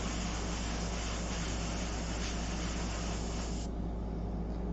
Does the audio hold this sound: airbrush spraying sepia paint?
yes